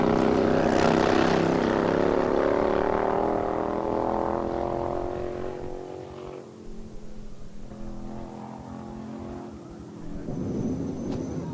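A nitromethane-burning B Fuel drag racing motorcycle with a single gear and no transmission, early 1990s, roars loudly and steadily before fading into a rougher, fluctuating engine drone that surges again near the end.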